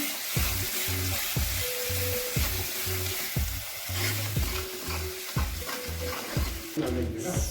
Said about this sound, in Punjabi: ਥੋੜਾ ਜਿਹਾ ਵਿੱਚ ਪਾਣੀ ਪਾਇਆ